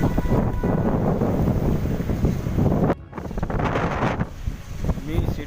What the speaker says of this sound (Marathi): वादळी वाऱ्यासकट पाऊस पडतो आहे